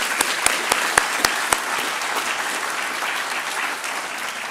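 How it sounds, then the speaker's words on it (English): An audience at a raspberry festival senior coronation applauds, opening with a few sharp, loud individual claps before settling into steady, sustained clapping from a crowd. "I think everybody should give her a round of applause"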